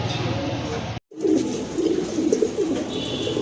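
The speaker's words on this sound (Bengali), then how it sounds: "এই যে দেখেন আপনারা এক জোড়া লাহরি কবুতর" A pair of Lahori pigeons coos in low, rolling murmurs close by, steady for a few seconds after a brief cut in the sound.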